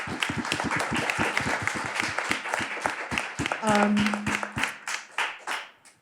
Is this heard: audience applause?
yes